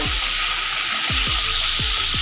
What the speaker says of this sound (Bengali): পটলগুলো হালকা লাল করে ভেজে নেব